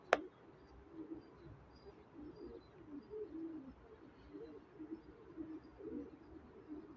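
Red Aleppo pigeons coo softly in low, repeated murmurs under steady background noise, with a brief sharp click at the start and no talking.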